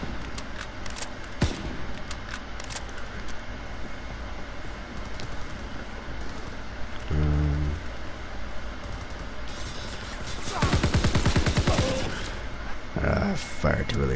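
Gunfire in the video game Call of Duty WWII, a burst of rapid shots near the end and a shorter one after, loud, mixed with game noise and occasional talk.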